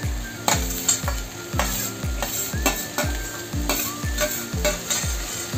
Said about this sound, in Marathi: टाकून झाल्यावर त्याला व्यवस्थित ढवळून घेऊया त्याला, जेणेकरून मसाला त्याला व्यवस्थित लागेल